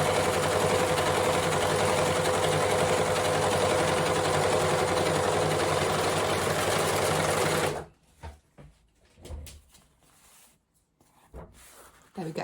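Overlocker sewing a fabric edge, a steady loud mechanical buzz that runs continuously for about eight seconds, then cuts off into quiet fabric handling and light knocks.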